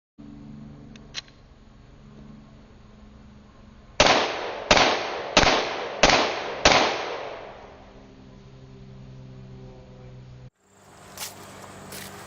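Five pistol shots fired from a CAA MCK conversion kit at an outdoor range from 50 feet, sharp loud reports in a steady rhythm, each with a decaying echo, followed by quiet and a faint click.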